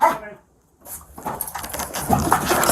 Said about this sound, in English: Make yourself known or I'll send my dog.